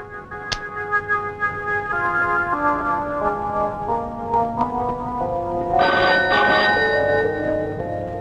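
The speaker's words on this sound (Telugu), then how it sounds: "డాక్టర్ ఫోన్ ఏదో వచ్చింది చూడండి." An old telephone rings with bright, repeated electronic bell tones forming a stepping melodic pattern, loud and close, with a brighter burst of ringing near the end and no talk over it.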